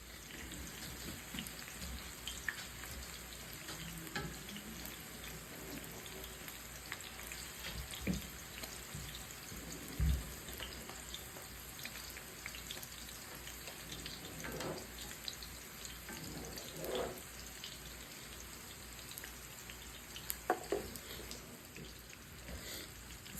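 Taquitos frying in oil, a faint, steady crackle and sizzle with scattered pops running throughout, quiet and without talk.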